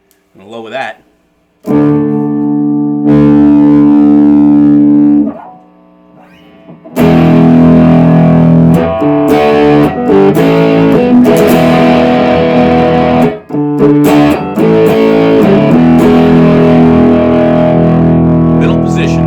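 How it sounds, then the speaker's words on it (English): A Tease SBH-HD Tele-style electric guitar with heavy distortion, a sustained note followed by loud, gritty riffs and chords with brief breaks. "And now we'll put some distortion on."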